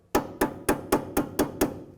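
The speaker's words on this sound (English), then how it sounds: "You can usually just tap these in with a hammer" A hammer taps a metal C-clip onto the front strut bracket of a 2007–2012 Nissan Altima, seven sharp, evenly spaced metallic knocks, loud and close with nothing else heard.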